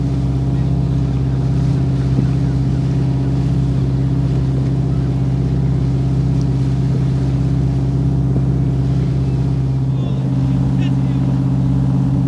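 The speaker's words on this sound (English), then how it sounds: "Classic Tasmanian cray fishing boat." Classic Tasmanian cray fishing boat motoring along a river, its engine giving a steady, continuous low drone throughout with no break in rhythm, loud and close, with faint background activity but no clear speech.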